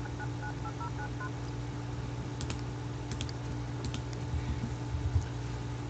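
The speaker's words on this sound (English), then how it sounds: "Now call Brandy again." A phone keypad in The Sims 2 gives a quick run of short dialing tones at the start, followed by soft tapping clicks and faint background hum, with no voices.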